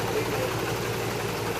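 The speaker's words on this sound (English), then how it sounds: "I just like rev it up and see what it does." A Mazdaspeed 3 car engine runs with a steady, even mid-low drone close by, holding a constant level without a clear rise in pitch.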